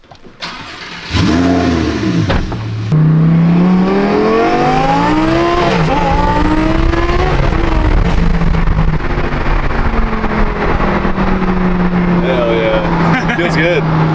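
A Lamborghini all-wheel-drive car accelerating hard, its engine note climbing through several rising pulls and gear changes, loud and close inside the cabin, with people talking over it.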